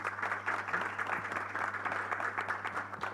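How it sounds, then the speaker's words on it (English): Steady audience applause for panelists at a productivity forum, moderate and even, with a low electrical hum beneath the clapping throughout. "ladies and gentlemen, a collective round of applause for all of our panelists this afternoon."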